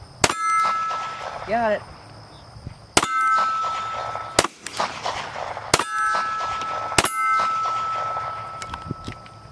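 .380 pistol rounds striking a steel target, giving four sharp metallic clangs that ring out at uneven intervals, with a brief spoken comment between them.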